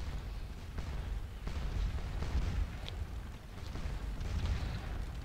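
Musket and cannon fire crackles and booms across a Battle of Waterloo strategy game, faint and distant, with scattered shots and low rumbling blasts over a steady battle din.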